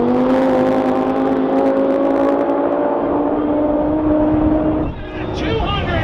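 Race cars, including a GTR and a Viper, scream down the track at the TX2K22 roll race, one loud engine holding a steady high whine before dropping off as it passes, while people talk nearby.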